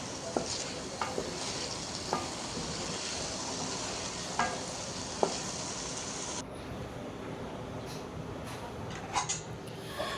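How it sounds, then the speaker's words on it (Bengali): Roti fries in a pan with a soft, even sizzle throughout, marked by a few light clicks and taps of a utensil. "তো রুটি বানিয়ে এখন ভেজে নিচ্ছি।"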